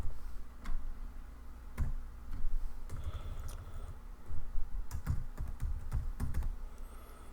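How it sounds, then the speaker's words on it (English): Computer keyboard keys being typed while entering script code, irregular close clicks and taps in short bursts with brief pauses, no voices. "then you have to type your code here"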